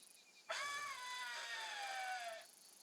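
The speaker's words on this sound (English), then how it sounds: "Just a pure scream. I guess it is called a scream caller" A scream caller used for hunting kangaroos in theHunter Classic lets out one sustained, piercing, slowly falling scream lasting about two seconds, loud and isolated over a quiet background.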